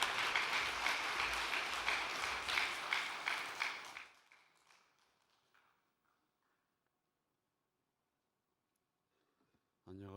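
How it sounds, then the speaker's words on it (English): A crowd applauds steadily, the clapping fading out after a few seconds into near silence, followed by a brief sound at the very end. "Let's welcome him up with a big round of applause."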